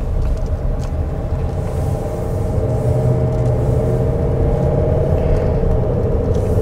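A Range Rover Westminster cruises with a steady, loud low engine and road rumble throughout, heard from inside the cabin, with no voices.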